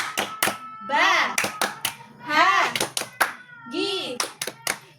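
Children clap hands in quick rhythmic bursts of the Indonesian 'tepuk bahagia' clap chant, alternating with short chanted phrases from young voices, close and lively.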